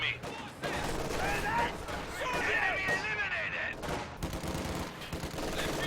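Machine gun fire in Company of Heroes 2, a World War II strategy game, rattles in repeated bursts amid explosions and battle noise while a commentator talks over it throughout.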